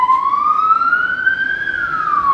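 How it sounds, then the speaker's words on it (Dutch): An ambulance siren wails with a steady rising and falling tone, loud and close, sweeping upward and then dropping in pitch as it passes by, with no speech over it. "De ambulance."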